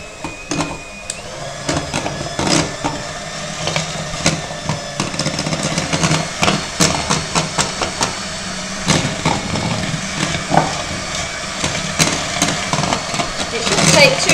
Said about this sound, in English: Or you can do it with your electric whisk. So on a slow speed first of all, and then build it up